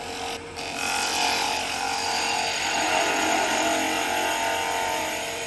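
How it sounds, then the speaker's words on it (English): A woodturning lathe spins a small rustic bird house ornament while a 3/8 spindle gouge cuts it, giving a steady, close, scraping whir that holds at an even level throughout with no talk. "And I'm using a 3/8 spindle gouge on this."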